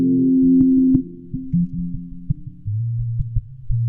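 A narrow, hum-like tone with sustained low pitches shifting from note to note, thin and filtered: one soloed EQ frequency band of an acoustic guitar recording.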